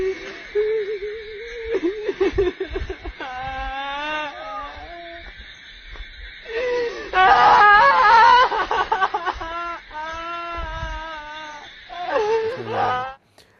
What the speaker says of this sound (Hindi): उसी वीडियो में इस स्पिरिट के रोने की आवाज़ सुनाई दे रही है।